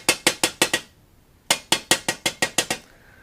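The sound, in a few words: ball peen hammer tapping metal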